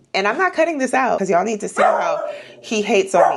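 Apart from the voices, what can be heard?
dog barking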